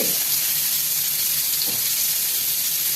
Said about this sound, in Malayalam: അങ്ങനെ നമ്മളെ ആഗോലി പൊരിക്കാൻ ഇടുന്നു